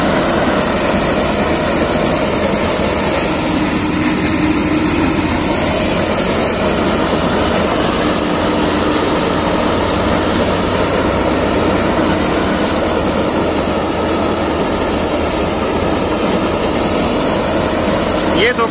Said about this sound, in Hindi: फिर से शुरू हो गई है यहाँ पर गन्ना कटाई। क्या जबरदस्त मशीन है।